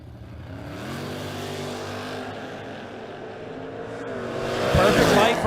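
Drag race cars roar at a creek drag strip during a spring King of the Creek event, with engines droning and revving. The sound swells louder and harsher toward the end as a car launches.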